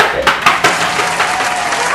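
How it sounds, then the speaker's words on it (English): Applause from an audience at a business communication talk, a short burst of clapping with crowd noise filling the two seconds at steady, moderate loudness. "Let's have a round of applause to the business organization representatives, Miss Christine and Miss Gail."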